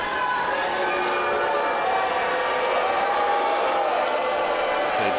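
A dense, constant crowd roar fills an indoor independent pro wrestling show, a loud, unbroken wall of cheering with a few faint claps rising above it throughout.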